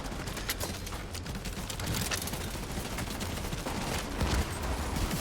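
Sustained automatic gunfire in The Division 2 crackles in fast overlapping bursts, loud and dense for the whole stretch, with no voices.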